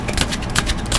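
Tarot cards are shuffled by hand in quick, uneven bursts of papery riffling, close and fairly loud.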